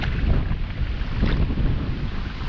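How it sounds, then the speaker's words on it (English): Wind gusts on the Missouri River rush across the microphone as a low, buffeting roar with steady water wash from a small boat underneath, loud and continuous without a break. "Wind's picking up"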